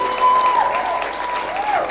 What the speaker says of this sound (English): I think our speakers need another huge round of applause.